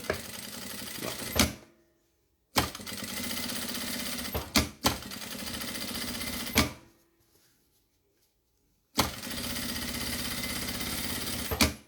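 A sewing machine stitches fabric lining onto a zipper, running in loud, steady bursts of several seconds each that are broken by short silent pauses, close up with no talk.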